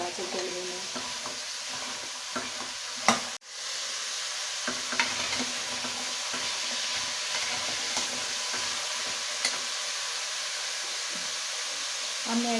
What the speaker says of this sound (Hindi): और इसको मैं अच्छी तरह फ्राई करूँगी।